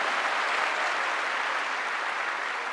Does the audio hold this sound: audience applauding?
yes